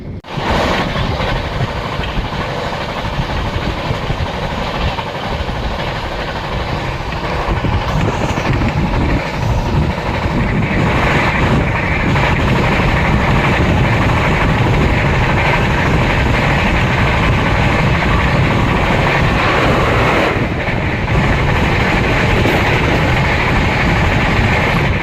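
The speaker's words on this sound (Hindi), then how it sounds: "अपने ऑन टाइम 7:06 पर ट्रेन अराइव कर चुकी है खुर्जा जंक्शन पर" Amrapali Express (15708) arriving at Khurja Junction in India, heard as a steady, loud rumble of rolling rail cars with faint clickety-clack, continuous throughout and swelling slightly after the first few seconds, no talk.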